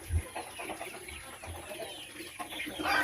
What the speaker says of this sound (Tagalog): So, mga manok o mga sisiw,